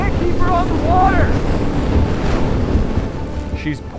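Addictor 190 miniboat running on open water, a low rumbling churn with heavy wind buffeting the microphone and splashing waves, plus brief high squeaks and a few faint voices.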